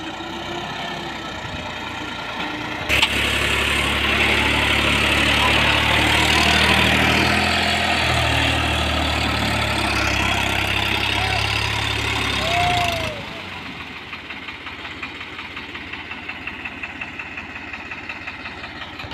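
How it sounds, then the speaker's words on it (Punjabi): A tractor engine idles with a steady, loud rumbling drone for about ten seconds, then drops away, leaving quieter background noise, in a Punjab village. "ਸਾਡੇ ਨਛੱਤਰ ਸਿੰਘ ਪੋਲੇ ਦਾ ਵੀ ਟਰੈਕਟਰ ਜਿਹੜਾ ਆ ਗਿਆ"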